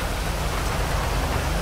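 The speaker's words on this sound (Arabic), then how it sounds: "الشتا جامد جامد قوي يا جدعان" Heavy rain pours steadily and loudly across the whole stretch in GTA V, a dense, even hiss of drops with faint low rumble beneath and no talk.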